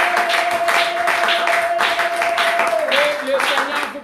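A church congregation claps to acclaim Jesus, steady rhythmic handclaps under a sustained voice or tone, lively and fairly close.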